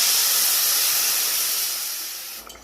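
Water poured into a hot pan of Bengali egg and potato curry hisses loudly in a steady steam rush that slowly fades toward the end, with no voices.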